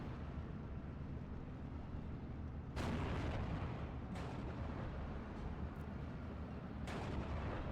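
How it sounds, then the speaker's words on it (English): Rocket artillery striking in the video game Steel Division 2: a few distant booming impacts over a constant low rumble, with one heavier hit early and lighter thuds following at irregular intervals. "Rockets came in again for another 50-point artillery piece."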